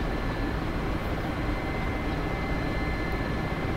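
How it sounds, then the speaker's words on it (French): Steady, loud broadband drone of a helicopter in trimmed cruising flight at about 150 km/h, a continuous engine and rotor roar with no breaks and no voices. "L'hélicoptère va continuer de voler comme ça."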